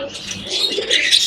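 Budgerigar chicks give a brief burst of thin, high-pitched chirping calls, close by and moderately loud.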